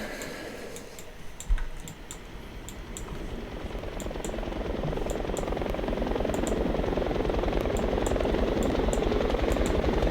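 A steady, rising engine roar builds and holds as an MH-6 helicopter in a Roblox game spins up and lifts off, with faint clicking ticks scattered above it.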